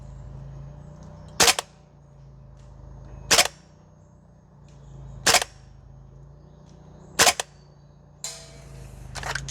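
A SCAR L gas blowback airsoft rifle, a Guns Modify MWS, fires four sharp, loud single shots at roughly two-second intervals on an outdoor range, followed by a brief metallic rattle.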